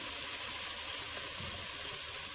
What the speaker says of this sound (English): We are now adding the potatoes